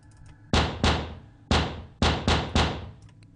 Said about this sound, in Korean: 미칠 듯한 속도의 노크 소리가 현관문에서 들렸다